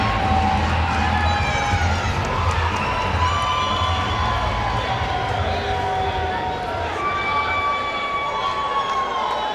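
Arena crowd at a World Series of Fighting MMA event cheering and shouting steadily as a fighter enters the cage, a loud continuous roar with whistles and a commentator talking over it.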